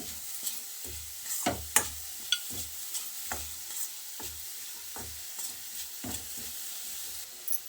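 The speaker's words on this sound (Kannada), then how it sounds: "ಇವೆಲ್ಲ ಚೆನ್ನಾಗಿ ಮಿಕ್ಸ್ ಮಾಡ್ಕೋಬೇಕು ಸಣ್ಣ ಉರಿಯಲ್ಲಿ" A spoon scrapes and stirs a thick sweet mixture over low heat in a pan, in irregular strokes with a faint sizzle underneath.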